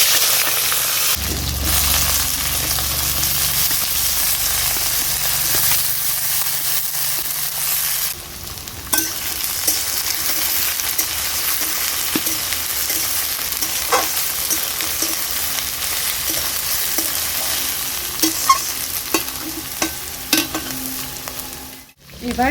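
Taro pieces sizzle and fry in hot oil tempered with whole spices, with steady crackling and occasional stirring scrapes continuing throughout, close and fairly loud, with no talking.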